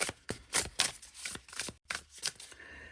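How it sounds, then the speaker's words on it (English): A tarot deck of thick cardstock cards being shuffled by hand: a series of crisp riffling bursts and soft slaps in an irregular rhythm, close and fairly loud, with a brief pause near the end. "So I'm going to just shuffle the tarot deck and I'll be back in a second."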